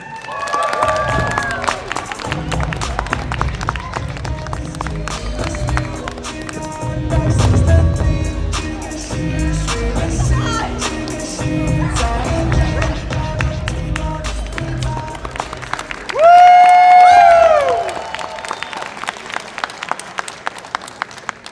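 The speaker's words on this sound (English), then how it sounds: "Please give a big round of applause for our number 13 contestants." Loud audience applause and cheering for cosplay contestants at a convention costume contest, sustained for about twenty seconds with music playing underneath and a rising sweep near the end.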